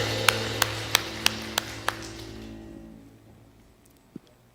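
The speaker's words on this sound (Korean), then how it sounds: "함께 하시는 하나님께 박수로 모든 영광 올려드립니다." In a church worship service, a run of six sharp, evenly spaced claps rings out in a reverberant hall, then fades away, followed by one faint clap a moment later.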